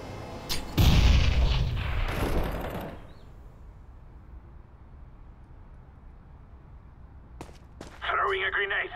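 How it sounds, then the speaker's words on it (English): A loud grenade blast and rolling gunfire from Counter-Strike on the Overpass map erupt together in a burst lasting about two seconds, then give way to a quiet hum, with a few sharp clicks and a brief voice near the end. "Grenade out."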